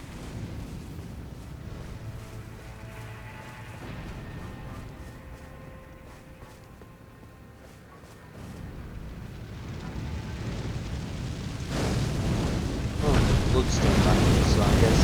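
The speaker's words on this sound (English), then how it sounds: "there's an AoE on the explosion" Rumbling explosive blasts from a boss attack in Elden Ring: Shadow of the Erdtree, a low continuous roar that swells louder toward the end, with a spoken voice running over it.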